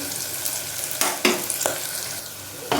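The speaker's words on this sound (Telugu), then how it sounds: "ఇప్పుడు అల్లం వెల్లుల్లి పేస్ట్ వేస్తున్నానండి" Ginger garlic paste sizzling in hot oil with onions and green chillies for a mixed vegetable curry, a steady frying hiss with a few sharper stirring clatters, close and moderately loud.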